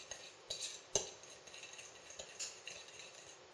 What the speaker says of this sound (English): we're going to mix the dry ingredients until they're nice and incorporated